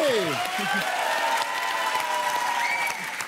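Studio audience applauding on a French television dating game show, a dense steady clatter of many hands at moderate loudness throughout, with tonal music lines running beneath it.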